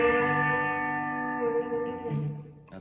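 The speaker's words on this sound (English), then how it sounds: "Again, as the bender comes down, you're using your index finger to bend the 3rd string 2nd up." A B-bender guitar lick, with the index finger bending the third string a whole step up as the bender lowers, rings as a sustained, bending chord with echo, fading slightly over about three seconds.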